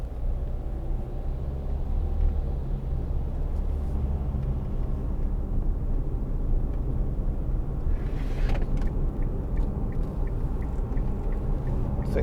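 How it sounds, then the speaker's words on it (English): Loose locking wheel nuts rattle in the boot of a 2010 Kia Sportage 2.0 CRDi First Edition on the move, a faint clatter under steady road and engine rumble, with a brief sharper knock near the end. "I think that's the locking wheel nuts sliding about."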